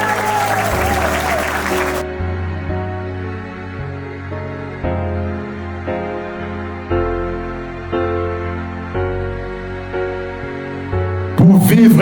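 A wedding congregation claps loudly to acclaim the Lord, a brief burst of applause that gives way to sustained keyboard music, then the clapping swells again at the very end.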